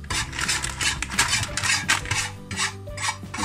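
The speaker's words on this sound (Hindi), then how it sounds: "तो बस ऑयल की स्पून ऑयल डाली है और बस इसको मिक्स कर रहे हैं।" A spoon stirring popcorn kernels in oil inside a metal pot on a gas stove, steady scraping and rattling strokes repeating in a quick rhythm, close and clear.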